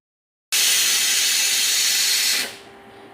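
Steam from a pressure cooker making chicken soup on an infrared induction cooker: a loud, steady hiss bursts in abruptly, holds for about two seconds, then drops away to a faint lingering hiss.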